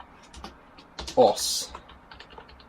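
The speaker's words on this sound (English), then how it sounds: "so I can type on the keyboard." Typing on a computer keyboard, a quick burst of light clicking keystrokes up close, with a brief spoken word partway through.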